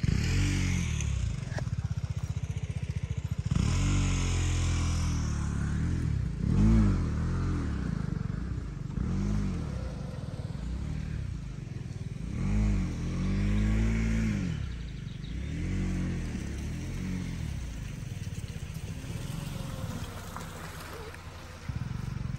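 A car engine pulls hard in second gear at full throttle with the windows closed, a loud, close droning rumble that rises and falls in repeated swells through the cabin on a climbing road.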